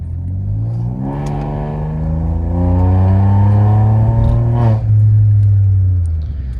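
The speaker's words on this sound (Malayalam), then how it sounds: "ഈ വണ്ടീൻ്റെ എക്സോസ്റ്റ് ഓൺ ആക്കിയിട്ടുണ്ട്. ഇപ്പോൾ നമ്മൾ ഡ്രൈവ് മോഡിലാണുള്ളത്" A Volkswagen Polo GT TSI with a full-system aftermarket exhaust and performance tune revs in drive mode, its engine note climbing and holding loud and close, then dipping briefly before rising again.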